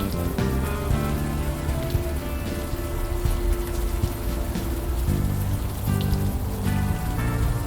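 Rain falls steadily on city streets in the video game Unavowed, a dense, continuous patter of drops on hard surfaces, fairly loud, with a faint tonal layer beneath.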